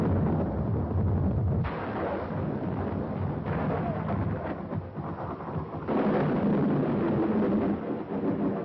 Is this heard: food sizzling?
no